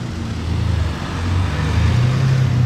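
A Ferrari Maranello drives past with a close, loud engine note that builds steadily over a few seconds.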